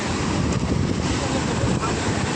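Sea waves wash in at RK Beach after rain, a continuous broadband surf rush with heavy wind buffeting the microphone, loud and close throughout.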